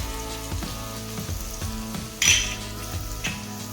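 Onion sautéing in a pan for spinach soup, a steady close sizzle and crackle of frying with a brief louder burst of stirring or clattering partway through.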